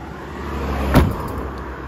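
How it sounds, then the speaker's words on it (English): A single vehicle swishes past on a nearby road, a brief rise and fall of tyre and engine noise near the middle against steady outdoor background. "So occasional traffic"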